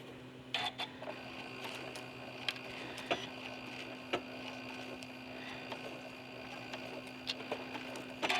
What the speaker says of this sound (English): I'm going to sew a little bit and then backstitch, and then continue to sew right on the printed line on the template